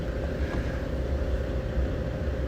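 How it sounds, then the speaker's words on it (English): A turbocharged car in the video game One State RP drives along with a steady, loud low engine drone, continuous and alone with no talking. "This is kind of my little daily driver here. It's got some turbos on it"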